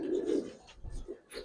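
Young silver Giribaz pigeons give a brief, soft cooing burst, close and quiet, followed by a couple of faint shorter coos.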